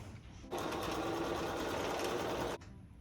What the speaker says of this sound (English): we're going to sew these three together right here